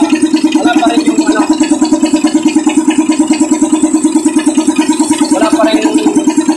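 An SDLG loader's diesel engine runs close by with a loud, steady, rapid knocking that repeats evenly throughout over the idle drone.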